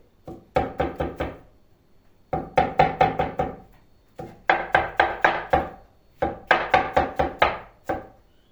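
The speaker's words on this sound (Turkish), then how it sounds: "Ve şu şekilde doğramaya başladım." A knife chops soaked saffron milk cap mushrooms on a cutting board in quick, rhythmic bursts of four to six close, crisp knocks, separated by short pauses, with no talking.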